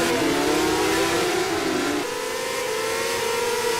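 A Formula 3 racing car engine in a sim racing game at Valencia drones loudly and continuously, its pitch sliding down then holding, like a high-revving motor.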